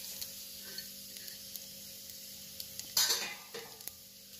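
Dates fried in a pan with a teaspoon of poppy seeds on very low gas give a faint, steady sizzle, with light stirring scrapes and a louder clatter of spoon against pan near the end.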